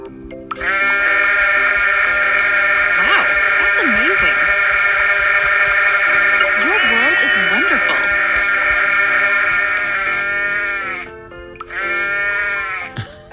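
Cartoon sheep bleating in a children's animal-sounds show, a loud, sustained wavering bleat over a synthetic musical tone, with a short second bleat near the end.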